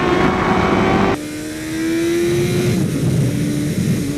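A Suzuki SRAD motorcycle screams on a race track, its engine revving hard under a heavy throttle with no quick shifter. The pitch climbs in steady sweeps, drops sharply at a gearshift, then climbs again, loud and close throughout.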